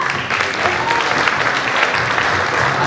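Steady, dense applause from an audience at an awards ceremony, loud and continuous throughout with no break.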